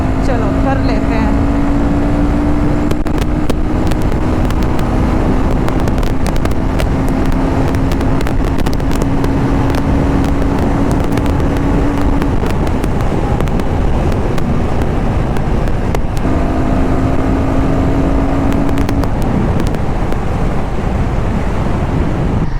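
Royal Enfield Guerrilla 450 motorcycle held at full throttle in a top speed run: a steady engine drone climbs slowly in pitch under heavy wind buffeting, with a brief break near the end before the note resumes.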